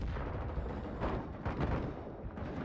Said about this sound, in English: I hear grenades.